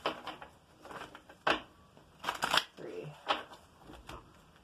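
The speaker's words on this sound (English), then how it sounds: "All right, 3 shuffles and 3 cuts." Tarot cards are shuffled and cut by hand in several quick, crisp bursts of riffling and slapping, close by and separated by short pauses.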